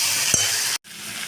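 Ginger-garlic paste and tomato fry in a pan, a bright steady sizzle with a single stirring knock, cutting off abruptly before resuming briefly.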